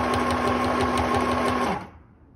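Sewing machine stitching fabric for a drawstring backpack, a steady loud rapid motor-and-needle rattle running continuously, then stopping abruptly near the end, with no talk.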